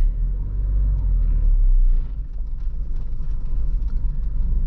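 Honda Mobilio engine at half clutch gives a steady low rumble and drone, loud and continuous, easing slightly partway through with no talking.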